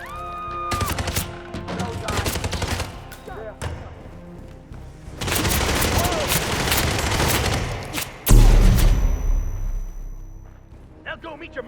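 A shootout in the video game Hitman 3 bursts out in rapid volleys of gunfire and heavy thuds, broken by short pauses and one big boom, while voices shout over the shots.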